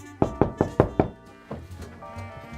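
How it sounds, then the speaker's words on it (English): Five sharp knocks in a quick, even rhythm rap on an office door, close and clear, followed by a quieter room. "when I heard a knock on the door"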